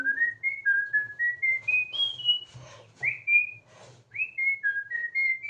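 A person whistles a rising, stepping melody of sustained notes, close and clear, with soft background chatter and a low hum underneath, a couple of brief breaks in the tune.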